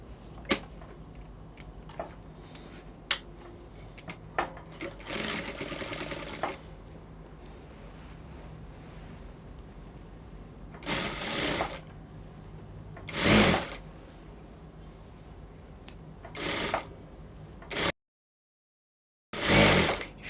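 A sewing machine stitches wrap dress fabric with a half-inch seam in several separate bursts, each a few seconds long, against a quiet room.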